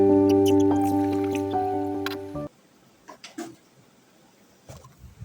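Water pours from a can into a fish tank in a steady, rising gush that cuts off abruptly, followed by quiet drips and small splashes in the nearly full tank.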